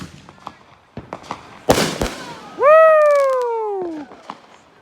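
Fireworks are set off. A sharp crackling burst is followed by a loud, drawn-out descending whistle, with scattered small pops and clicks around it.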